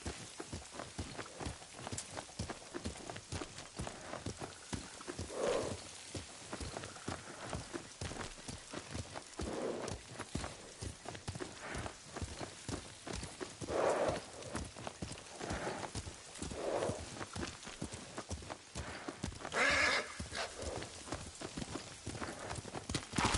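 A horse ridden at a steady pace in the Ghost of Tsushima video game, its hooves clip-clopping in a continuous close rhythm, with brief louder swells that may include a neigh.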